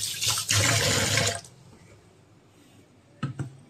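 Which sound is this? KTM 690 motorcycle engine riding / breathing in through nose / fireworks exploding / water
water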